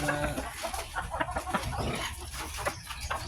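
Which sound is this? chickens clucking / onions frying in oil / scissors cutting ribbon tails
chickens clucking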